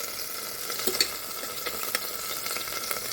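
Chicken pieces sizzle and crackle in an Instant Pot on sauté mode, a steady bright frying hiss with a few stirring scrapes and clicks, alone without speech.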